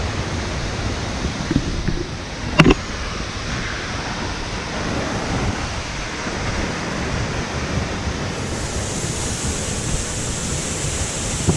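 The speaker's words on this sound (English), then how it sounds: "Waterfall number 3." An 18-meter waterfall in Pekel Gorge, Slovenia, roars as a steady, dense rush of falling water, loud and unbroken throughout, with a brief knock partway through.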